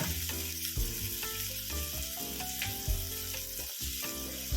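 Onion and tomato fry in a pan alongside pabda fish, giving a continuous close sizzle with faint stirring underneath and no talk.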